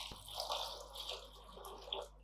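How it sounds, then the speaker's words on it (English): Water poured from a cup into a saucepan of sugar while making syrup for Greek-style baklava, a soft continuous splashing and trickling stream heard close and alone, with no talking. "grab 2 cups of water and just put that on top"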